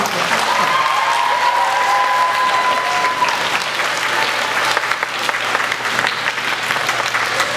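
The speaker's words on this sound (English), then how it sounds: "Let's give Mrs. Clint a round of applause." A school chapel audience gives a sustained round of applause, dense and steady throughout, with a short whistle near the start and crowd murmur mixed into the clapping.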